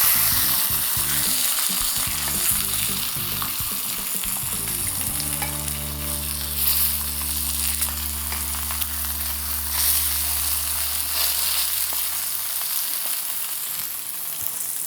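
Pork chop searing and blackening in a hot pan, a steady loud sizzle and crackle of frying fat that carries throughout with no talk, accompanied by a low continuous kitchen vent or burner hum.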